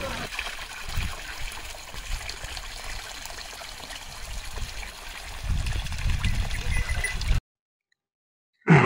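Water flows for livestock to drink in Beed, a steady close rushing trickle that swells louder toward the end before cutting off abruptly.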